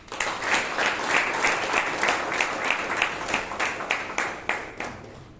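A room full of people applauds steadily, the clapping dense and even throughout before tapering slightly at the end.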